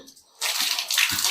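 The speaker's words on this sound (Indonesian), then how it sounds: "untuk dindingnya saya rutin menggunakan penyemprotan ini, menggunakan air" Water spraying hard from a tap-fed sprayer onto the walls of a swiftlet nest house, a sudden loud hiss of spray that starts abruptly and continues steadily with splashing.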